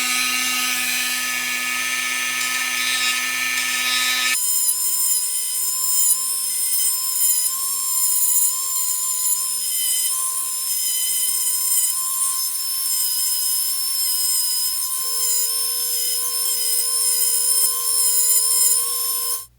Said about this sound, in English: I've gone as far as I can with the 60 grit band on the Dremel tool